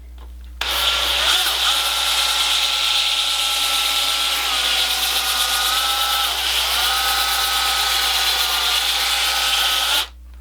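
A drill fitted with a foam sanding pad whines steadily for nearly ten seconds while sanding curved wooden edges, its pitch dipping slightly as the tool is angled, loud and close.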